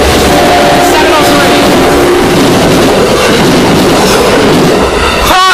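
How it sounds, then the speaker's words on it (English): Amtrak passenger train bound for New York Penn passing very close, with a loud continuous roar and rumble of wheels on rails throughout, ending in a rising squeal; a voice speaks briefly under the noise. "Here he comes. Amtrak to New York Penn."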